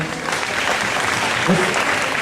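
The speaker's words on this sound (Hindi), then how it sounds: "एक बार जोरदार तालियां" Sustained applause from a crowd at a Hindu temple Bhagavat Katha gathering, steady and fairly loud throughout, with no one speaking over it.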